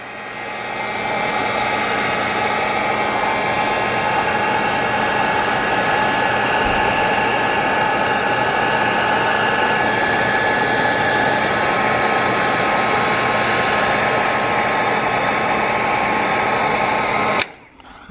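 A heat gun blows a loud, steady whirring roar as it shrinks heat shrink tubing over soldered trailer light wiring, running for nearly twenty seconds before a click as it switches off.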